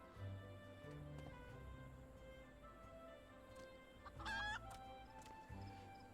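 A chicken clucks in Final Fantasy XIV during the Hatching-tide spring event, faint scattered clucks over a steady ambient game soundscape, with a brief brighter squawk partway through.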